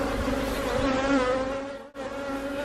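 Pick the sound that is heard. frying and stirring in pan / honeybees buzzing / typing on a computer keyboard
honeybees buzzing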